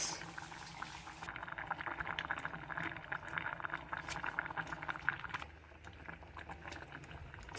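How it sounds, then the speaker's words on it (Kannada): Butter melting and sizzling in a pan, a close, steady crackle with dense popping that thins out near the end. "ಬಟರ್ ಮೆಲ್ಟ್ ಆಗ್ಲತ್ತಿದ್ದು ನೋಡೋಕೆ ಸ್ಯಾಟಿಸ್ಫೈಯಿಂಗ್ ಅನ್ಸುತ್ತೆ"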